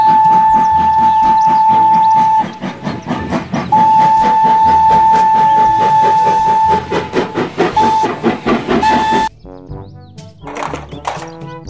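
Thomas the Tank Engine, a cartoon steam train in a children's video, lets out loud, repeated whistle blasts over rhythmic chuffing and hissing steam, then a short burst of music.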